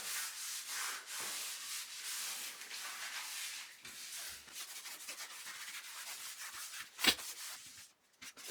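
Sanded Mapei Keracolor S grout wiped off floor tile, a continuous close rubbing hiss in steady strokes, with one sharp knock near the end.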